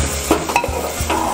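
Potato curry with softened tomatoes is stirred and pressed with a ladle in a pan, giving a short burst of close scraping and squishing strokes over a low sizzle.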